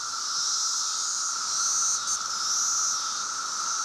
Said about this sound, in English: It's the summer sound of cicadas,